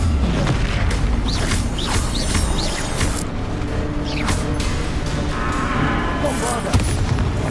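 Bombarda explosion spell from Hogwarts Legacy on PS5, booming blasts and crashing debris in a dense, loud, continuous game battle mix.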